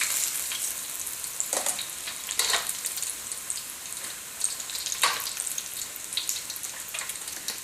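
Tofu frying in hot oil in a wok gives a steady, close sizzle with crackling bursts and spits scattered throughout; no one speaks.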